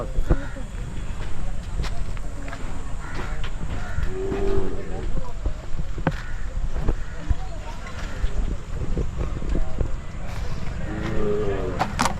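Hallikar cattle at the Magadi livestock fair moo loudly several times, with long drawn-out calls spaced across the stretch, amid gusty wind noise and people talking nearby.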